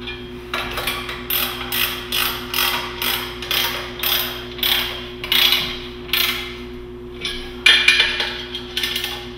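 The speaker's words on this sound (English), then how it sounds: "then you want to retighten these clamps" Clamps on a universal sonar mount are tightened with a ratcheting tool, giving a repeated loud mechanical clicking in steady strokes about once per second, close up. A constant low hum runs underneath.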